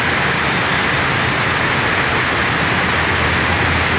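Constant downpour of heavy rain, a thick unbroken wash of noise that stays loud and uniform throughout.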